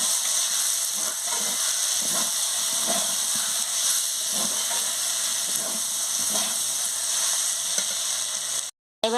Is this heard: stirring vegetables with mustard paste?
yes